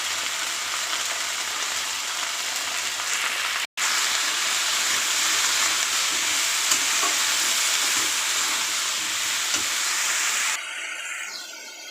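Vegetables with green chili and salt fry in a hot pan for vegetable curry, a loud steady sizzle and hiss that holds for about ten seconds, drops out for a split second, then fades to quieter sizzling near the end.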